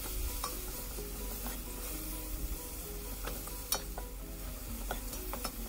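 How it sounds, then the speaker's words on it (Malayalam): Ground coriander and turmeric masala is stirred in a pan for Kerala chicken peralan, with a quiet sizzle under repeated scrapes and clinks of a spoon against the pan; no talking. "ഇതൊന്ന് നമുക്ക് നന്നായി മിക്സ് ചെയ്തെടുക്കാം"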